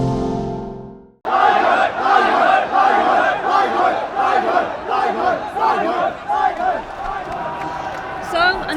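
A dense, loud crowd roars and cheers continuously after an arrest at a street protest in Mong Kok, Hong Kong, in 2014, with shouting voices mixed through the din after a brief quiet start.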